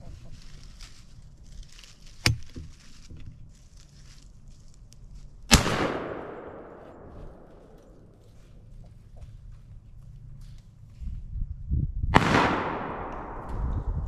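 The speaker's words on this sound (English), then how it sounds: "I'm gonna shoot." An over-and-under shotgun fires at a squirrel outdoors: three sharp, loud reports, the first smaller, each trailing off in a long echoing decay, with quiet rustling between the shots.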